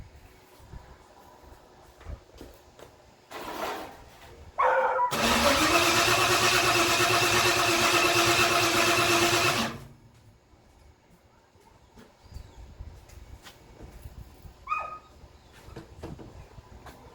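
A freshly installed Ford 302 V8 cranks loudly for about five seconds, a steady whirring starter drone that stops abruptly and leaves only quiet shop noise and a few faint clicks.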